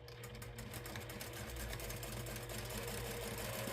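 A sewing machine stitches a Dollar Tree fabric zipper pouch with fusible interfacing, running in a steady, fast mechanical whir with a low motor hum, close and continuous with no voices.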